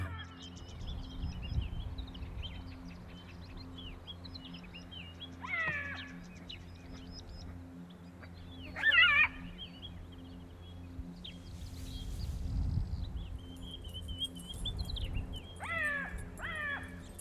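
A jackal in the Kalahari gives several short, high wavering cries spaced apart over quiet, distant background hum, faint and far off with no voices.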